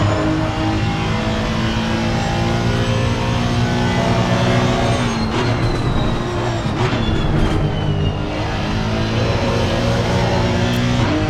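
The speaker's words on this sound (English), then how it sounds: "Let's listen to the engine on that Honda." A Honda race car engine in the ACC racing game drones loud and steady at high revs, with a shift or lift midway before it climbs again, constant and close with no talk.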